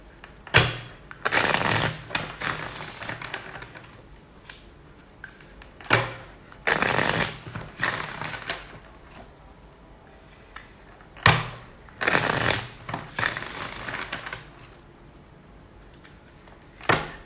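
A tarot deck is handled and shuffled in several rapid riffling bursts, each crisp flutter of cards separated by quieter pauses and soft taps, close by.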